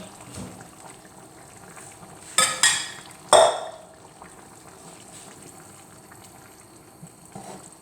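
Dumplings are stirred into a pan of simmering beef stew with fresh thyme, a soft bubbling bed broken by a few sharp scrapes and clinks of the spoon against the pan.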